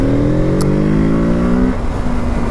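A Kawasaki Z650RS motorcycle engine revs steadily upward in a close, loud, continuous pull, with rising harmonics, then drops back to a lower idle-like tone near the end.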